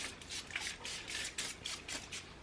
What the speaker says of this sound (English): this is the Evian Mineral Spray